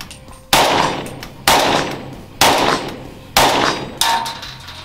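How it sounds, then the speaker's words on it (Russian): A German WWII machine gun fires in five loud, evenly spaced bursts, each a sharp metallic crack with a brief echoing tail, heard up close outdoors. "я в первый раз в жизни стреляю из этого оружия"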